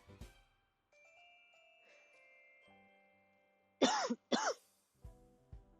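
Two sharp, close coughs in quick succession, heard over faint background tones, followed by a couple of soft thumps.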